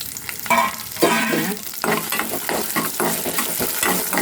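Pepper and fenugreek sizzle in hot oil, a continuous crackling fry with stirring scrapes throughout, close and fairly loud.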